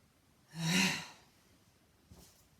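A single deep breath, a long audible inhale-exhale swelling and fading, taken during a guided stretching session, followed by a faint second breath near the end; no speech.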